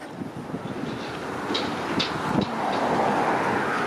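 A commuter train bound for Barrie rolls past nearby along Steeles Avenue West in Vaughan, Toronto, a steady broad rumble with rhythmic clatter and brief squeals, wind buffeting the microphone throughout.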